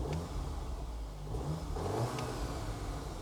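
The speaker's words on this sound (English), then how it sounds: "one to start and stop the engine, which has a nice little bumble off it" A Cupra Formentor 300bhp engine running with a low, steady rumble, close by and fairly quiet, with a slight rise in revs partway through.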